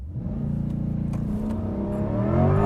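A 2024 Corvette E-Ray hybrid AWD launches hard, its engine roaring steadily and climbing in pitch and loudness over a few seconds, close and loud with no talking.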